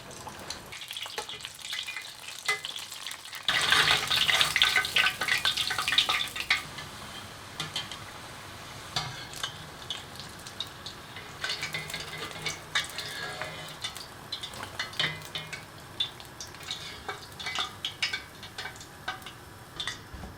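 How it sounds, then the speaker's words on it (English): Oil sizzles and crackles steadily as cheesy pork and plantain empanadas fry, with a louder burst of bubbling early on and light clinks of utensils throughout. "that'll also help any liquid inside the empanada escape while it's frying"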